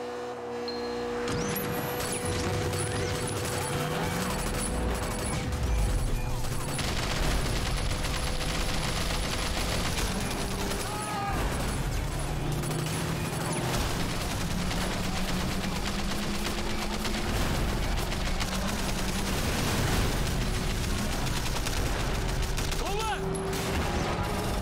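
Car-mounted guns firing in the video game Sleeping Dogs, a sustained loud fusillade of rapid machine-gun bursts over a rumbling engine, continuous for the whole stretch with a voice talking now and then.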